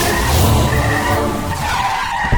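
Car pulling away with tyres skidding and squealing in an action film chase scene, a loud continuous screech over engine roar lasting a couple of seconds, with no voices.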